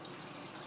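Continuous close splashing and churning of water as a pet turtle swims in its new backyard pond, a steady wash of sound with no voices.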